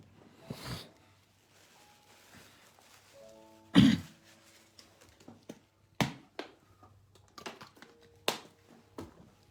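A man with a week-long cough coughs and clears his throat during a live stream, several short, sharp bursts scattered through an otherwise quiet stretch, one stronger and longer than the rest.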